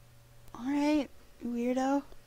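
A house cat meows twice at close range, each meow drawn out and rising slightly, with a short pause between the two calls over faint background hum.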